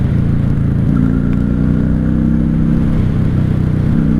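A 1995 Honda Shadow VLX 600 (VT600CD) V-twin motorcycle engine runs steadily while riding, a loud, continuous low throb with a slight rise in pitch partway through, and no talk over it.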